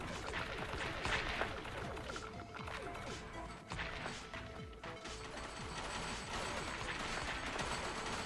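Rapid, dense gunfire in the roguelite auto-battler video game Battle Grid, a continuous stream of crackling shots and impacts that barely lets up.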